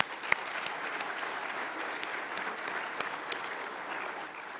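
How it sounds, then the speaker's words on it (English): Audience applauding at an opening-day welcome event, a steady, moderately distant patter of clapping hands that holds evenly throughout with a few sharper individual claps standing out. "Can we give a round of applause to our corporates?"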